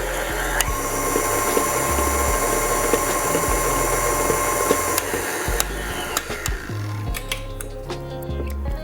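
A stand mixer runs steadily on low speed while mixing cookie dough, giving a loud continuous motor hum with rhythmic churning, then a few clicks and knocks near the end as it slows.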